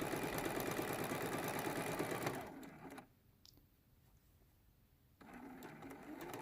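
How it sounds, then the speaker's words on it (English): Sewing machine stitching the border of a quilt top, a steady loud mechanical whir that slows and drops to near quiet midway, then resumes running. "while we're still at the sewing machine"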